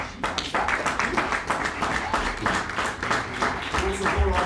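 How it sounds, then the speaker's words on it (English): An audience at a Two Oceans Marathon press conference claps warmly, a dense, even round of applause that continues throughout while a voice briefly speaks near the end. "Please, can we give a warm round of applause to Pumi Mlojwa?"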